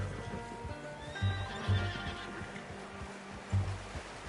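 A horse in the video game Red Dead Redemption 2 whinnies and neighs several times over steady hoofbeats and a low rumbling ambience, fairly close.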